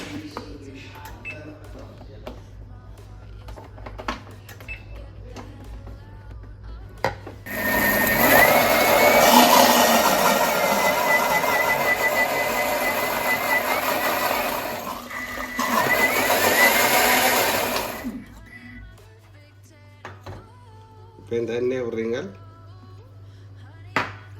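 Electric mixer beating sugar for a coconut cake batter, a loud buzzing whir in two bursts of about eight and three seconds, close by, with speech and kitchen clatter before and after.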